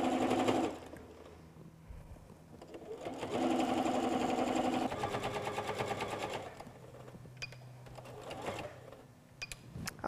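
A sewing machine stitches a small quilted fabric bowl cozy in bursts of fast, even mechanical whirring. It runs close and steady, pauses between runs and finishes with a few short clicks, with no talking.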